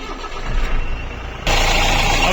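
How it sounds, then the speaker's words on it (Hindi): A repaired Mahindra Bolero engine idles steadily, a mid-pitched running drone that suddenly gets louder and brighter partway through, with no talk over it. "अब जो है इंजन की आवाज़ बिल्कुल प्रॉपर है एकदम।"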